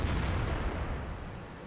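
A single heavy tank cannon shot in a tank video game, a deep booming blast that rumbles and decays over a couple of seconds, close and loud with no talk.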